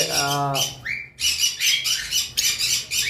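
Lovebirds chirp and screech in rapid, shrill bursts close by, a busy chattering flock of five with brief pauses between calls.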